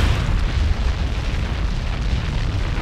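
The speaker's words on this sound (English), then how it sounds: "an explosion occurring from the result of the rapid release of energy" A loud, sustained rumbling blast from a nuclear explosion, a dense roaring boom that holds steady for a few seconds with no speech over it.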